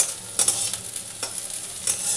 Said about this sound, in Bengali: উচ্ছেটা আমার মোটামুটি এরমভাবে ভাজা হয়ে গেছে